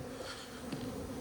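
Honeybees buzz steadily around an opened hive during a spring inspection, a dense, continuous insect hum close by with no talking.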